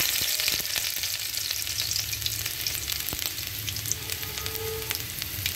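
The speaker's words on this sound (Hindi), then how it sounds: "उसके बाद मैं लहसुन की कलियाँ जो मैंने स्मैच करके रखा हुआ है वो मैं डाल दूँगी।" Smashed garlic cloves hit hot oil in a pan and fry with a steady, close sizzle full of small crackles and pops. It continues unbroken without any talking.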